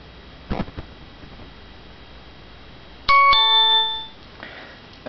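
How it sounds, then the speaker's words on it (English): A Staples-style Easy Button rigged as a text message alert at the HOPE 2010 hacker conference in NYC plays a loud, clear chime-like tone lasting about a second, with faint taps before it and quiet background noise. "You get a text."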